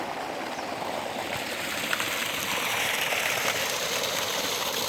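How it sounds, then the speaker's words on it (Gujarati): Water flowing steadily through a millet field, a soft continuous rushing and gurgling like a small stream, moderately close and alone with no talk. "બાજરીમાં પાણી હાલે છે."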